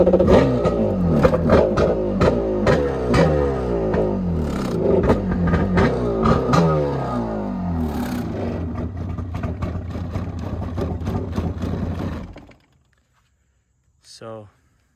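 A 1996 Yamaha 701 Superjet with twin Mikuni carbs starts at once and revs loudly in rising and falling bursts for about twelve seconds, then shuts off, followed by a brief faint blip.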